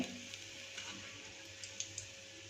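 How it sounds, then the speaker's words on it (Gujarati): Green pigeon pea dhekra fritters frying in hot oil, a faint steady sizzle with scattered small pops and crackles, quiet and close with no one talking. "આ રીતે આપણે બધા જ ઢેકરાને વારાફરતી ગરમ તેલમાં ફ્રાય કરી લઈશું"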